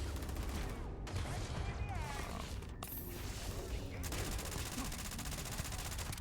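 A rifle firing armor piercing rounds in the video game Starfield, rapid automatic bursts with sharp cracks and impacts, loud and close, broken by brief pauses, with someone talking over the gunfire.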